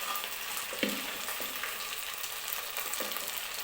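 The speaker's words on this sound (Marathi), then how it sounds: "मी खोबरं जे आहे ते तुपामध्ये परतून घेते." Coconut and cooked wheat being fried in ghee for wheat kheer, a close, steady sizzle with a few soft spoon scrapes over a short stretch and no talking.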